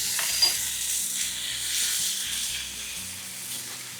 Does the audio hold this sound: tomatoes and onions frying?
yes